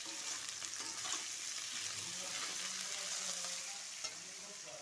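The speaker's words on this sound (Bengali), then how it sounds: "সব একটু ভাজা ভাজা করে নেব।" Sago khichuri ingredients fry in a pan with salt, giving a steady, fairly quiet hiss of sizzling oil, broken by occasional stirring scrapes and no talking.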